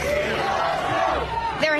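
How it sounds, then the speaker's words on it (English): A political rally crowd roaring and cheering as a president takes the stage, a dense, sustained wall of voices with shouts and whoops, fairly loud and continuous. "They're cheering for President Trump when he comes on stage."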